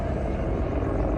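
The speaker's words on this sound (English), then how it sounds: "they have helicopter rides that go up and down the strip" A commercial tour helicopter flies over the Las Vegas Strip, its rotor and engine making a loud, continuous, close rumbling drone.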